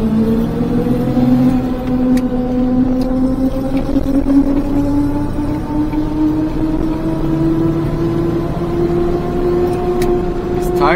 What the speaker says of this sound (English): These tires are wearing in now. Getting a little quieter.